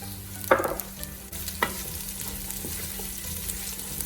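Garlic and chili flakes fry in olive oil, a soft sizzle with sharp crackling bursts as ingredients hit the pan early on, then a quieter steady fizz.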